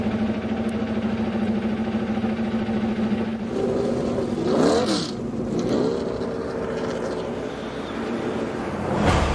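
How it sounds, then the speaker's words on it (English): Indy Lights race car engines fire up and rev at an oval race, a steady mechanical drone with rising revving sweeps, heard from a distance. "Drivers, start your engines."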